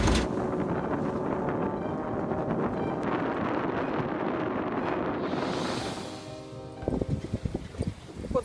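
Gale force wind buffeting a small sailing boat, a loud continuous roar and microphone buffeting with rigging and hull noises, easing briefly before gusting again.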